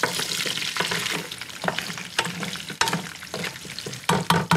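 Onions and garlic are stirred around in a stock pot, with bones and vegetables being roasted for brown beef stock. Scraping and clattering strokes sound over a soft, continuous sizzle, close and irregular.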